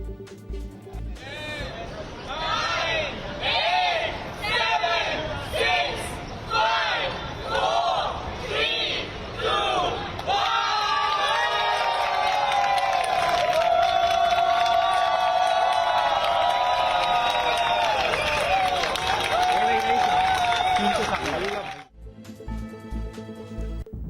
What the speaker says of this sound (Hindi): एप्पल स्टोर के कर्मचारियों ने ताली बजाकर अपने ग्राहकों का स्वागत किया